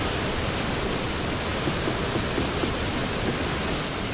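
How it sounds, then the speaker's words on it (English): A waterfall in the Roblox game Expedition Antarctica roars as a dense, steady wash of noise, loud and unbroken throughout. "We're here at the waterfall. Sorry if it is loud."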